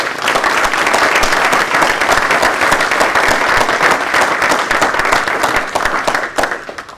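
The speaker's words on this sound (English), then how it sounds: "if you could join me in a big round of applause for Jessica" A town council retreat room gives a big round of applause for a departing staff member, Jessica, a loud, dense burst of clapping that holds steady for several seconds before thinning out into a few last claps.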